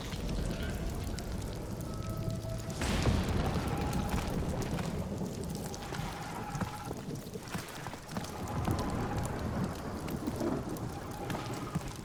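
Rain hisses steadily in the video game Guardians of the Galaxy, a storm soundscape with a sharp crack of thunder early on and low rumbles and patters spread across the continuous downpour.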